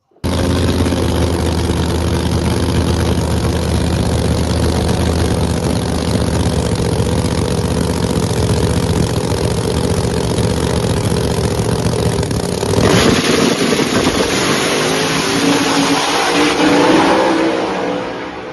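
A junkyard Studebaker no-prep drag race car roars at high volume in a sustained, steady engine drone that shifts in tone and surges near the end.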